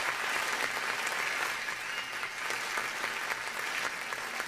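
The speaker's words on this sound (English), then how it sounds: "wait for the applause. It's a standing ovation at this point." A dense, steady wash of applause as a sound effect, many hands clapping continuously at an even level for a few seconds with no voices over it.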